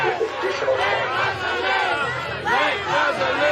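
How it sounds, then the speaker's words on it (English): Protest crowd at a New York City march for Palestine chanting "Let Gaza live" in unison, a dense mass of voices rising and falling in steady rhythmic phrases, loud and close throughout. "The crowd is chanting, "Let Gaza live.""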